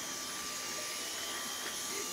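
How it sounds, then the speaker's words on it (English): A vacuum cleaner roars loud and steady while cleaning a car interior, a continuous close-up whine with no pauses and no talk. "Abba's vacuuming. He's making all clean."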